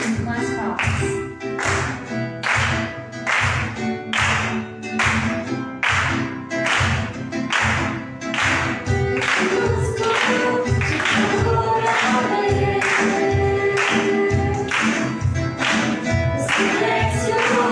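At a church prayer service, the congregation claps in a steady, even rhythm along with loud group singing. The beat stays regular throughout and the voices carry over it.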